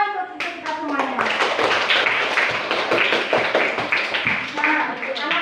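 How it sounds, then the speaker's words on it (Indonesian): A classroom group of children and their teacher claps hands in a cheer routine, a dense, steady patter of many close claps filling the whole stretch, with brief voices near the start. "Oke, tepuk tangan untuk kita semuanya."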